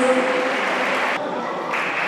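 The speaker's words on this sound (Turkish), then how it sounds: "Evet bir alkış tüm öğretmenlerimiz adına" Applause for teachers at a school sports festival in Tuzla, a dense, steady burst of many hands clapping at close range, lasting about two seconds.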